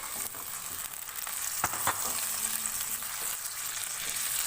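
Half a kilo of finely minced beef frying with onions in a pan, a steady close sizzle with a few brief clinks of stirring partway through and no talk.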